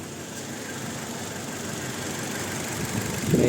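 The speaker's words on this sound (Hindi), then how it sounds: "देखिए मिसफायरिंग हो रही है और चेक इंजन में नहीं आ रही है।" Toyota Innova engine idling with a misfire, a steady rough rumble with an uneven pulse, close and fairly loud, swelling slightly at the end, with no talking.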